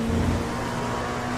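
An LMP2 race car engine at Silverstone hums and revs in a short, loud, steady burst with a low droning tone, no voices over it.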